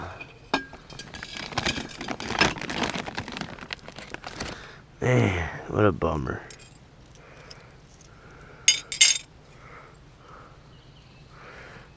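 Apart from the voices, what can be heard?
broken glass jar pieces clinking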